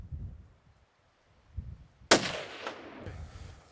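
A single sharp rifle shot at a waterbuck bull on a hunt cracks out after near silence, followed by a short echoing tail and faint rustling.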